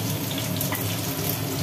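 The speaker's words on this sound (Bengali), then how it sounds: "তেল গরম হয়ে গেল। এদিকে তেলের মধ্যে পড়ে গেল" Chopped onion and potato dropped together into hot mustard-style cooking oil in a home kitchen, giving a steady, close, dense sizzle and crackle that holds without pause.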